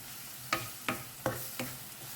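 Prawn masala with chili, ginger, garlic and coriander fries in oil under a steady sizzle, with four evenly spaced scraping stirs.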